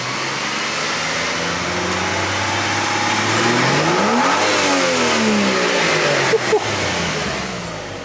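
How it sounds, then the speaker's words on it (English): A turbocharged G6E car engine revs up and settles back, with a rising whine of turbo spool sweeping up and down, then two sharp exhaust pops near the end. "We'll hear this turbo spool up"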